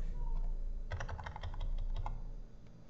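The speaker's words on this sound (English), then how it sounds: "I will type as anchor plate model" Typing on a computer keyboard, a quiet burst of a dozen or so quick close key clicks in an uneven rhythm over a low hum, no talk.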